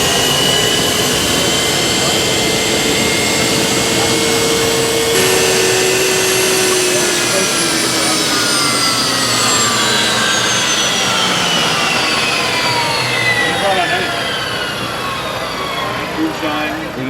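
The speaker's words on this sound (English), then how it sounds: "you hear the turbine once and you remember that sound for life" A Chrysler Turbine Car's gas turbine engine running on kerosene gives a loud, continuous jet-like whine, with high tones slowly sliding downward as it runs.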